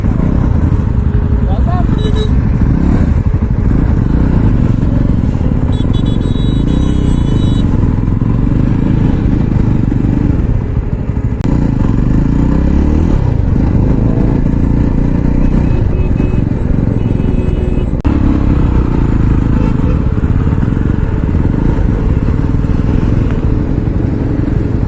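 A Jawa Yezdi motorcycle on an Independence Day ride to Nalgonda gives a loud, continuous engine drone mixed with wind rush and road rumble for the whole stretch, with a few brief clattering knocks.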